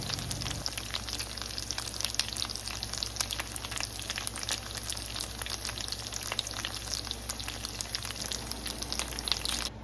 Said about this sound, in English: we're going to get it frying